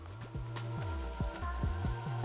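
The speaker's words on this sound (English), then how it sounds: "I'm doing stuff and then it rains." Rain falling in the Cult of the Lamb video game, a steady patter of drops washing over a musical game soundtrack with repeated tonal notes.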